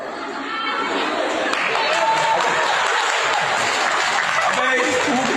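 Mixed crowd noise of an audience clapping and laughing at a man named Habib's antics, a dense steady wash of applause and chatter throughout.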